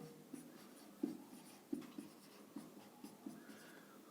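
Pen writing on paper during a Hindi-language Class 10 maths lesson, with soft scratchy strokes and small taps in an irregular rhythm, faint and close, over a quiet room hum.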